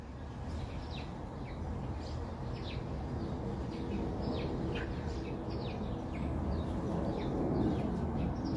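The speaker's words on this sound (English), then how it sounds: "Oh, the crows are back." Crows calling outdoors during spring chores, several short harsh caws repeating at a moderate distance over a steady background hum.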